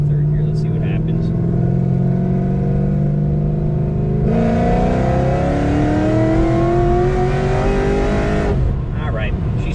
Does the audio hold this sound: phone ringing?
no